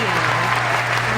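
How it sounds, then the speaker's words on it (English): Canned applause sound effect on a talk show, a short, loud, even burst of clapping with a steady low hum beneath it. "You have canned applause"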